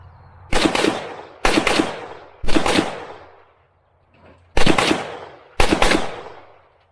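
Century Arms AK47 rifle fired in five loud, sharp semi-automatic shots, spaced roughly a second apart with a brief gap before the last two, each followed by a short decaying echo outdoors.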